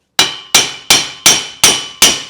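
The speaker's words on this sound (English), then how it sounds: "we're just gonna tap the yoke off" A hammer raps a driveshaft yoke on a car transmission six times at an even pace after the weld has been cut, each blow a loud, close, ringing metallic strike that decays quickly.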